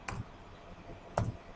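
Two sharp clicks of computer keyboard keys about a second apart, close and fairly quiet, while a name is typed; no talking.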